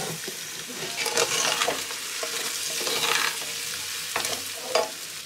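Cinnamon, black pepper and cloves fry and sizzle in a pan with a steady hiss, broken by occasional stirring scrapes, close and fairly loud throughout.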